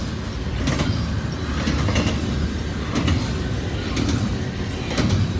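CN 111, a priority intermodal freight train, rolls past at Matsqui, British Columbia, with a steady loud rumble and repeated clickety-clack wheel beats on the rail joints.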